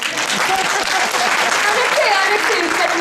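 Audience applause at a stage show, a dense, loud, steady wash of clapping from a full crowd, sustained without a break.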